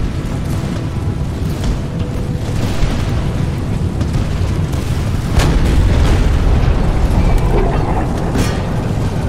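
Repeated booming artillery cannon blasts in Empire: Total War over a dense, rumbling battle din, one sharp heavy shot standing out midway, with no talk.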